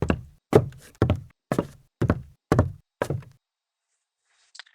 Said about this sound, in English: The second one was new wood with a soft and pleasant sound.